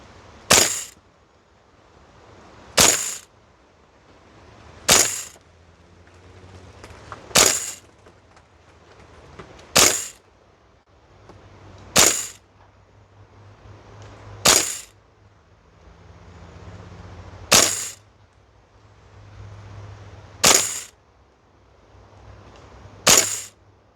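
A VFC L403A1 airsoft rifle fires single shots on an outdoor range, ten sharp, evenly spaced cracks about two seconds apart, each followed by a brief thud of the pellet striking a target, with no talking.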